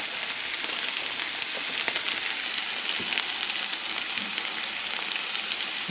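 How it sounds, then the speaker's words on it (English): Steak searing in a hot pan, a steady close crackling sizzle with dense popping spatter running unbroken throughout, no voices. "We're going to get a nice sear on that."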